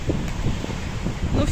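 Strong wind blows steadily outdoors, a broad continuous rush with gusty buffeting against the microphone throughout.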